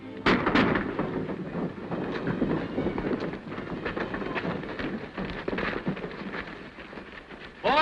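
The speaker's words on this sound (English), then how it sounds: "Call off the fight, fellas. Stoney's got the bank money" Shots crack through a shootout in an old western film, with rapid overlapping bangs over a dense, rumbling background. Several of the reports stand out loud and close.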